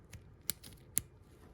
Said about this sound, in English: You can feel it clicking. Maybe hear it.